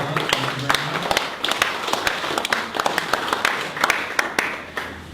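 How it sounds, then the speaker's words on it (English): Audience applause for speaker Deb Nystrom at a talk on being a super connector with Twitter, a dense patter of clapping filling the room at steady loudness. "Let's give Deb Nystrom a big round of applause"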